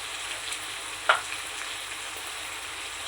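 Ginger paste frying with deep-fried chicken and a little turmeric, a steady low sizzle with a single clear scrape or clink about a third of the way in.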